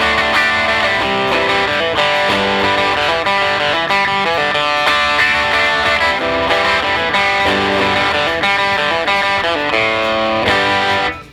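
Distorted electric guitar strums open chords with accent notes picked out inside them, in a punk style, loud and steady with a strong rhythmic pulse and no talking.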